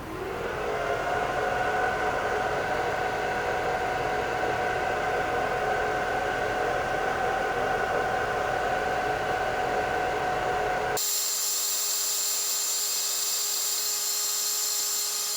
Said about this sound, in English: it just laser engraves aluminum business cards that are anodized for me